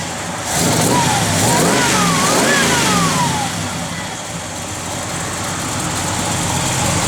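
A 1970 Chevrolet Chevelle SS with a mild cam, running on pump gas, rumbles steadily up close. It revs briefly near the start and then settles into a continuous idle, with a few faint voices in the background.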